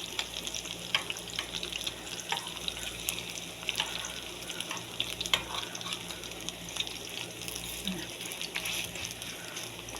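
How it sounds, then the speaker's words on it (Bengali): Chicken fritters are flipped and fried in a pan, giving a steady, moderate crackling sizzle with a few clinks of a utensil against the pan, heard close and continuous with no clear talking. "এখন যেটা আমি উল্টে পাল্টে ভালো করে ভেজে নেব।"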